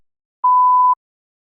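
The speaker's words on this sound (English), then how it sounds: "You may begin to prepare your response after the beep." A single clean electronic test beep marks the start of a speaking test response. It is steady, mid-pitched, about half a second long, and sounds alone against silence.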